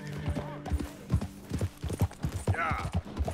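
Horse hooves clip-clop at a steady walking rhythm in Red Dead Redemption 2, close and distinct, with a brief whinny-like sound and low game ambience underneath.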